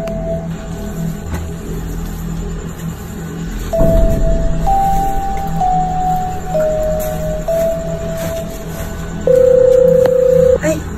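An incoming call sets off a phone ringtone, a stepped electronic tone melody that gets louder toward the end over a constant low background hum.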